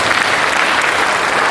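Loud, steady applause from an audience at a cooperative day commemoration and university launch event, a dense, continuous clapping wash that lasts throughout.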